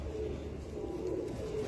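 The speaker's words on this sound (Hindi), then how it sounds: "این کبوترها رو گرفتیم ایران ببریم." Royal Teddy pigeons cooing in a group, a dense continuous low rolling coo from many birds close by, steady and fairly loud with no talk.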